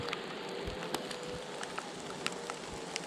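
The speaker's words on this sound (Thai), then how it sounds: "ทุกคนฝนก็มา" Rain falls steadily on a mountainside, a dense continuous patter with scattered louder drops striking nearby surfaces, even and moderately loud throughout with no talk.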